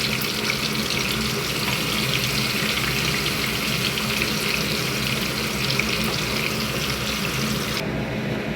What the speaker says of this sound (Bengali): চিংড়ি মাছগুলো আমার ভাজা হয়ে গেছে ওই তেলেই আমি রান্নাটা করে নেব